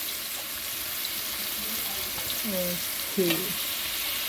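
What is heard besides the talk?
sautéing ginger, green chilies and shallots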